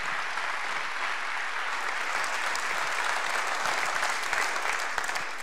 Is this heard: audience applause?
yes